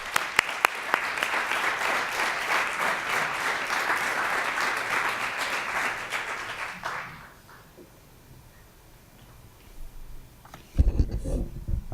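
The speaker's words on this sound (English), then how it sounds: "let's have a little round of applause for Dr." A lecture audience in a theater welcomes a doctor with dense, steady applause for about seven seconds, which then fades out into quiet room tone before a few muffled thumps and handling noises near the end.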